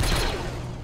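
A short burst of rapid gunfire from the Star Wars horror video game Deathtroopers rattles loudly for under a second, with no talking.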